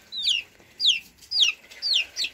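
Half-grown chicks of a large black hen give five high, descending cheeps in an even rhythm, close and clear, with no speech.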